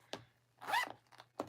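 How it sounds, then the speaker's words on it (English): A handmade zippered pouch being zipped back and forth a couple of times, its zipper rasping in two distinct strokes close by, with a louder sweep in the middle and a short pull at the end. "I like to let it zip a couple of times before I start putting stuff in there."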